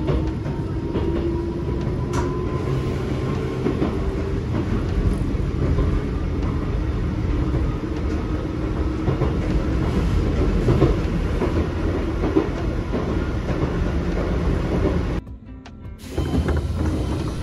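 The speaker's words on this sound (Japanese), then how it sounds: "コンプレッサーの音とかこのモーター音懐かしいですよね。" Aboard an old two-door commuter train in Osaka, a compressor and traction motor hum steadily under continuous rolling rail noise, with a brief drop in volume near the end.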